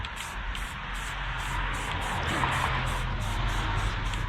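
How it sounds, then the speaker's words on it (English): A spray paint can hisses steadily onto a 3D-printed book nook in a close, continuous spray lasting a few seconds. "Now this is where you do like the more traditional spray paint."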